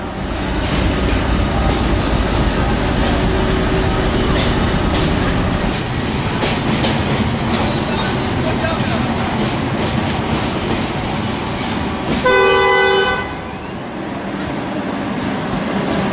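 A modern Chinese electric locomotive train rumbles past close by in a steady, loud roar with rhythmic clatter of wheels over rail joints, and a brief horn blast sounds near the end.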